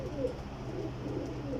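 Flying pigeons kept by a fancier in Jhelum coo in low, throaty, repeated calls, close and steady against a constant low background rumble, with no talking.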